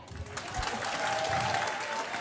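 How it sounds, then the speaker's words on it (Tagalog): A crowd at a political rally claps steadily, a dense patter of many hands that holds at moderate loudness for a couple of seconds, heard from within the audience with a faint voice underneath. "Ang hina naman ang palakpak nyo."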